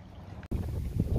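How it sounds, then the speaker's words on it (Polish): Wind buffets a microphone on a boat out on open water near barges, a steady low rushing roar with a brief dropout near the start. "Wiatr w twarz."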